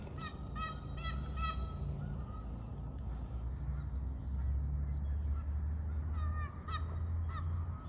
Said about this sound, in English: And you can hear the geese because they're upset because I stood up